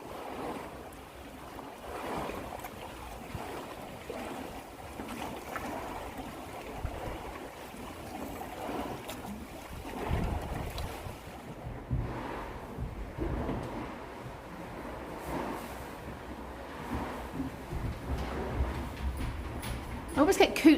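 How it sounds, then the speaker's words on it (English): Waves lap and wash on Rutland Water lake in an irregular, moderate rhythm, mixed with breezy wind buffeting, while people talk over the top at times. "It's got proper waves and everything."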